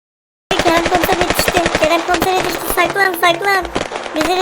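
Rapid bursts of automatic gunfire in a Minecraft game, loud and close, with rattling volleys, crackling shots and a voice talking over the action.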